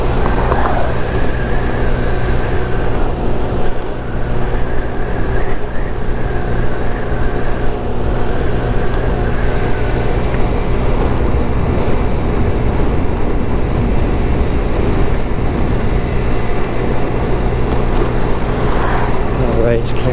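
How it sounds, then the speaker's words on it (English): Rushing wind roars steadily over a GY6 50cc scooter ride, mixed with the buzzing engine drone, loud and continuous throughout while a rider talks underneath. "I'm trying to shut my visor right now to eliminate that wind noise"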